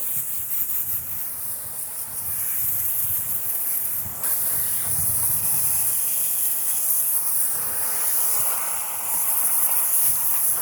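Water sprays steadily while a car is rinsed at home, a continuous close hiss with shifting intensity throughout.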